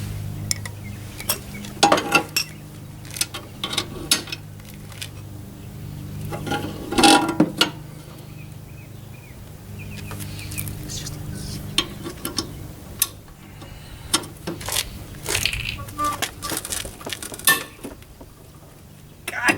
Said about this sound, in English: One jam the blades in place, the other to actually break the bolt loose